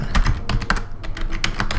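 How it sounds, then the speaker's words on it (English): A password is typed on a computer keyboard while logging in over SSH to a Raspberry Pi, in a fast, irregular run of close, crisp key clicks. "I'm typing in the password I just created a minute ago"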